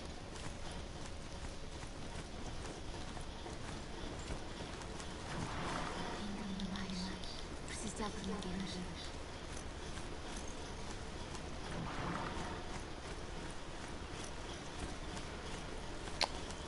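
A horse's hooves clip-clop in Horizon Zero Dawn, light rhythmic footfalls over ambient game sound, rising in clusters at moments along the ride, with no speech over it.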